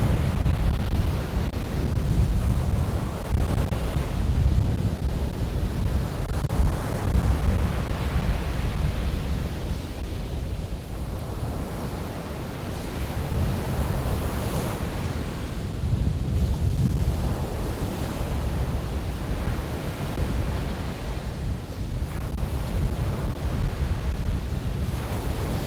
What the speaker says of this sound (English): Soak in the colors and the sounds of the waves